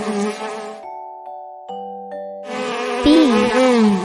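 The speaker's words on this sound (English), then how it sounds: "Bee." A bee buzzes close and loud, a tonal droning hum that drops out briefly mid-way through a lull with faint chime-like tones before the buzzing returns strongly, swelling and wavering toward the end.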